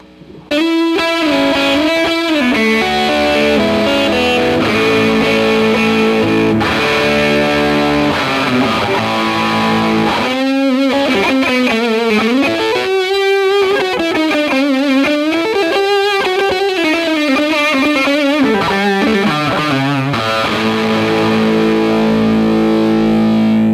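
An electric guitar with two pickups wired out of phase with the center one plays a bending melodic line with a thin, nasal, hollow tone and light grit, loud and continuous without any voices.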